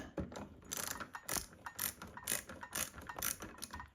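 Ratcheting clicks while tightening screws during a ceiling fan installation, a quick, rhythmic run of close metallic ratchet strokes repeating steadily without talk.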